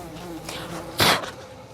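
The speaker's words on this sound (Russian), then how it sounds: "Мухи." Flies buzz close by outdoors on the rocky hills of Socotra, a steady insect drone with one louder swell as a fly passes near, without any talk.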